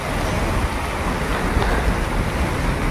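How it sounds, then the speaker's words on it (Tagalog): Heavy rain pours steadily with wind, a dense, loud, unbroken roar close to the microphone, with no voices. "sobrang lakas talaga ng ulan"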